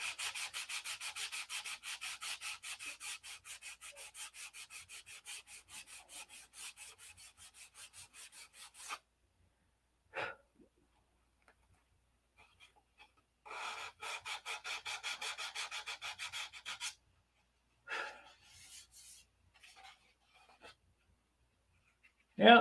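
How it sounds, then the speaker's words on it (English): Rapid back-and-forth rubbing strokes of sandpaper on a model P-47 airplane, in long bursts of rhythmic scraping separated by pauses and a few shorter passes, close to the microphone. "Yep, that's sanded out on the first round."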